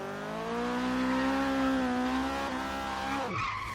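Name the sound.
Subaru BRZ drifting, tire skidding, from video game Forza Horizon 3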